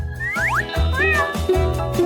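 Cat meows from a TV show about cats play in a short burst, sliding pitched calls over a rhythmic low thumping background, fairly loud and close.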